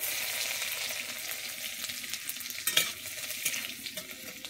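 Chopped garlic goes into hot oil already holding cumin seeds and curry leaves, setting off a steady, bright sizzle with a few louder crackles and spatters near the end.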